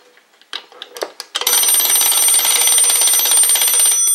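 An antique clock's alarm bell is wound and sets off. A few winding clicks and knocks come first, then a loud, continuous metallic ringing clatter that goes on steadily, close up and alone.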